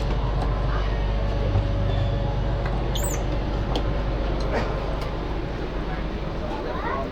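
The Maa Tara Express on the Rampurhat–Sealdah line pulls away, a dense, steady rumble and clatter of an old ICF coach with faint squeaks and a short high screech, filling the whole stretch.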